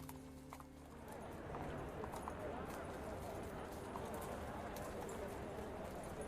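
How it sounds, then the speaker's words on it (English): Horse hooves stomp in a choose-your-own-adventure video game, a steady busy clatter of hoofbeats filling the scene at close range, with a voice speaking briefly at the start. "Horse hoof stomps, screams, agonized cries in the air"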